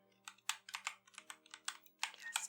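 Fingers tap quickly on a computer keyboard at a lodge check-in desk: a close, soft run of irregular clicky keystrokes with faint room hum and no talking.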